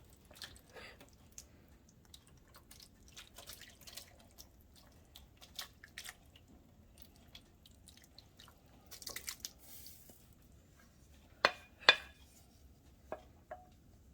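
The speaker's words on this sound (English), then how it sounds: "we're going to pour all of our sauce atop of all of this" Sauce is poured over skinless garlic chicken drumsticks for a Marsala dish, producing faint scattered drips, soft squishes and wet splats, with a few sharper clicks near the end.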